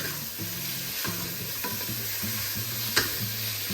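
Chicken soup ingredients sizzle and fry in a pot while a spoon stirs them, with steady close sizzling and repeated scraping strokes plus one brief sharp clink.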